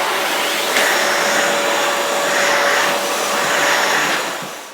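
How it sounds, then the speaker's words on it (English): A Festool CT dust extractor starts up with a brief surge and then runs at a steady, fairly loud whine and hiss, its pitch wavering slightly throughout with no voices over it. "start the extractor whenever you need"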